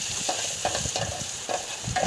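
Garlic fries in hot oil in a pan for a Bengali cucumber curry, a loud, close, continuous sizzle with bursts of crackle and some spatula stirring.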